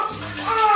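Water runs from a newly fitted household shower head in a steady, brief hiss of falling spray.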